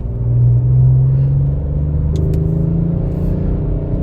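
2023 Audi RS5 with 2.9 liter twin turbo V6, a steady low droning rumble heard from inside while cruising, with a brief faint click partway through.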